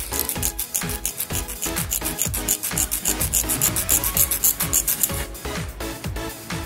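A hand file rasping steadily back and forth over a motorcycle tire valve removal tool, a rapid rhythmic series of close, gritty metal strokes with no talking.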